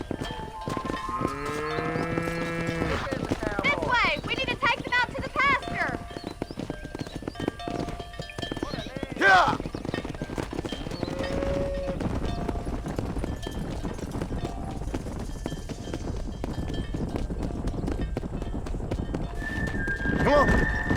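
Cattle driven down a road on horseback in the video game Red Dead, with steady clip-clopping hooves throughout, a horse whinnying early on and cowboys calling and talking over the herd.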